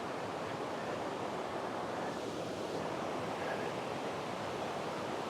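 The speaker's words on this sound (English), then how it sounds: "Got a creek there" Woodland creek at Cloudland Canyon flowing in autumn, a steady broadband rush of water that stays constant and fairly close throughout, with no voices.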